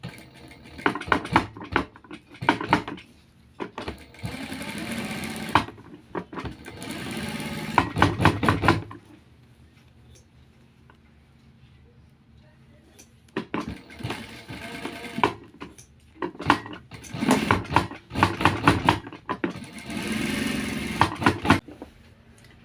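A sewing machine stitches the side pocket of a trouser in rapid, rattling bursts. Two sets of runs are separated by a quiet pause of several seconds in the middle.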